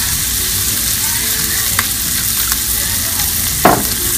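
Smoked bacon with honey and toasted sesame oil in a pan, seasoned before kale goes in, giving a continuous close sizzle with a few sharp utensil clicks against the pan, no talking.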